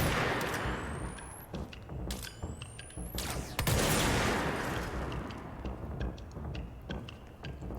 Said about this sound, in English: Let's see who's shooting at me.